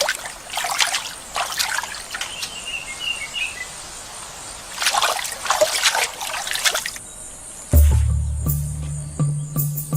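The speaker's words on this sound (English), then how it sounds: "As we watch Jill's chimps enjoying their afternoon dip in such human-like ways" Chimpanzees splash in pool water during an afternoon dip, with bursts of trickling and dribbling water separated by quieter pauses, then a heavier, louder movement near the end.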